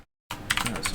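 Computer keyboard typing comes in as a quick burst of close, crisp key clicks after a brief moment of silence.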